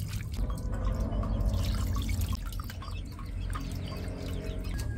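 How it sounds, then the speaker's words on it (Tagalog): Chicken intestines being washed by hand in water, a steady wet sloshing and dripping with faint splashes throughout, close up over a constant low background hum, no talk. "Atin lang pong huhugasan yung mga chula."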